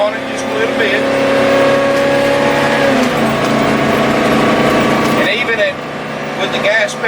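Interior engine drone of a 2007 Fleetwood Pace Arrow 37C Class A gas motorhome under full throttle, pulling uphill onto an interstate; a steady loud roar holds with one smooth downward shift midway and no jerk.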